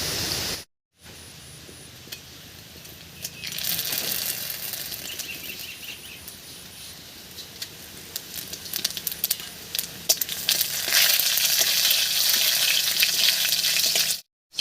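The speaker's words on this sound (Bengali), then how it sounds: "তেল গরম হয়ে গেছে এবারে তেলের মধ্যে দেব দুটো শুকনো লঙ্কা দুটো তেজপাতা সামান্য একটু মৌরি আর একটু জিরা" Dried red chillies, bay leaves, fennel and cumin sizzle steadily in hot oil for a rustic vegetable dal, a close, continuous frying hiss that swells louder after a brief silence at the start.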